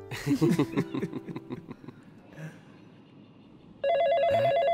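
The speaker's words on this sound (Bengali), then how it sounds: "স্যার ফোনটা ধরুন।" A telephone in a Bengali film scene begins ringing near the end with a loud, steady electronic trill, after a stretch of people speaking and chuckling.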